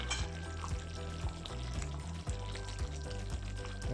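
Chicken do pyaza frying in a pan after tomatoes and kasuri methi go in, a loud, steady sizzle with repeated scraping strokes of a spoon stirring, close and without talking.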